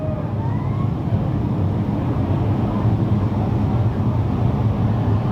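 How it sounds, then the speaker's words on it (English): Wingless spec sprint cars in a main event at Petaluma Speedway come off turn four as a steady, heavy engine rumble that holds a constant loud drone, without voices. "Our pit stop USA wingless sprint cars will come off of turn number 4."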